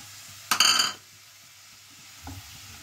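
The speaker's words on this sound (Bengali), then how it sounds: "এটা একটু বাটারে রোস্ট করে নেবো" Green peas roast in butter in a pan. A short burst of stirring and scraping stands out over a faint background sizzle, followed by a softer rustle near the end.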